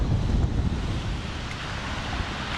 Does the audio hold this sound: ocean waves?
yes